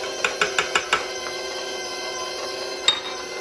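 A utensil beats two eggs into sweet potato pie filling in a bowl, making five quick, sharp taps in a row, then a pause and one more knock, up close with no talk.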